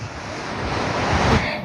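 Sea waves rolling onto Calangute beach in Goa, a steady loud wash of surf with wind buffeting the microphone, building slightly toward the end.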